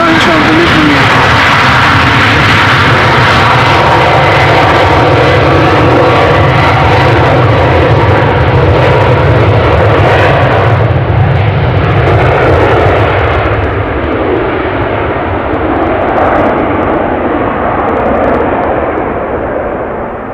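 Airliner departing runway 36L at Amsterdam Schiphol in a steep climb, a loud, sustained jet roar that stays strong and then slowly thins as the aircraft pulls away.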